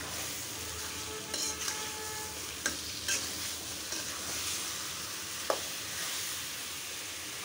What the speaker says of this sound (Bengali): এখন রসুনগুলি দিয়ে দিব।